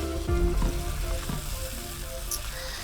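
Spice paste made from aromatics fries in a pan with a strong, close sizzle, a few low knocks and scrapes of a utensil early on, then a steady hiss; no one speaks.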